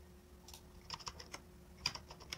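Keystrokes on a computer keyboard during a Fedora Linux MongoDB setup, a scattered run of light clicks and taps in irregular rhythm, close and fairly quiet, with no talking.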